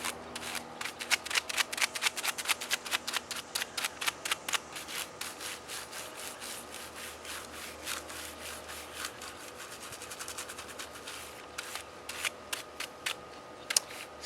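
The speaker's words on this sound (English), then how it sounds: "I'm just gonna brush it out" A soft brush sweeps across a filthy computer keyboard in quick, repeated scratchy strokes, close and fairly quiet, with brief pauses between bursts and no talking.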